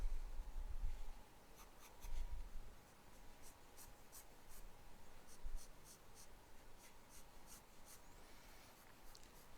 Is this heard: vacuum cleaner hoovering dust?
no